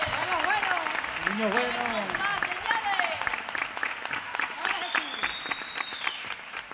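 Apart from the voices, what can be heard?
audience applause for flamenco percussionist at zambomba concert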